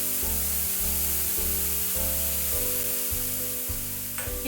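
Mushrooms with coriander, cumin powder and chili flakes sizzle steadily in a hot pan, a dense continuous frying hiss with an underlying hum, while a spoon stirs through the mix with a brief scrape near the end.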